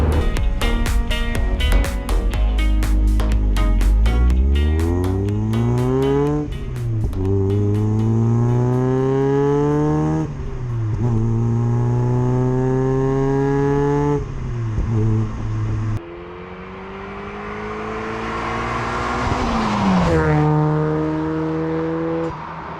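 A restored 1995 Mazda MX-5 engine revs up and shifts through gears repeatedly, rising pitch climbing then dropping, loud and close, with a final surge of acceleration.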